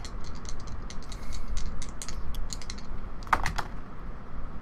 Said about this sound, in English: I heard the sound of dice rolling.